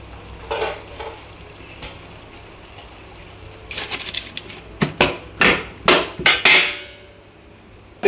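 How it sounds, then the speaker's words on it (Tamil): A metal dosa griddle and a pot are set down on a kitchen stove, a few soft clinks first, then a quick run of sharp, close metallic clanks and scrapes, each ringing briefly. "ஸோ இப்போ வந்து அடியில் வந்து தோசை கல்லை வச்சிட்டேன்."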